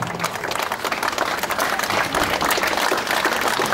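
Crowd applause at an outdoor city ceremony in Ternopil honouring ATO war heroes with memorial star awards, dense and continuous clapping from many people, fairly loud and close.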